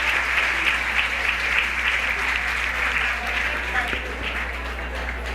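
A roomful of people applauds a team of lawyers at a gathering of retirees, with dense, steady clapping that carries on evenly throughout over a low hum.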